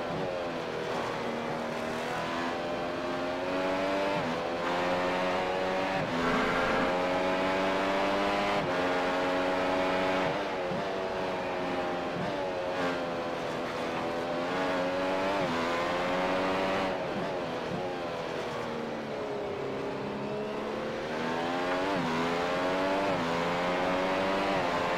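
Formula-style race car in iRacing at Imola under full throttle, a steady high-pitched engine whine climbing through repeated upshifts, continuous and close with no talk.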